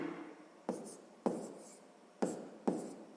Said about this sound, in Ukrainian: давайте запишемо тоді умову так